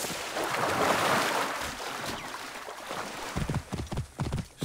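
A horse trots along in the Assassin's Creed Origins video game, its hooves clip-clopping in a quick rhythm that becomes clearer toward the end over a rushing, windy background.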